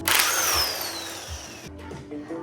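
A power tool with a socket spins off the top bolt of a strut on a 2025 Toyota Land Cruiser lift job, a loud close whirring burst that winds down over about two seconds.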